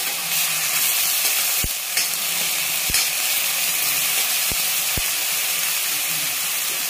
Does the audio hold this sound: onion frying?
yes